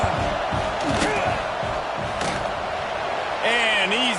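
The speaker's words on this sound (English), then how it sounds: "This crowd trying to do its part to get inside the kicker's head." A football stadium crowd roars during a field goal attempt, a sustained loud wash of cheering and noise with thumps, under a commentator's voice and a brief whistle-like tone near the end.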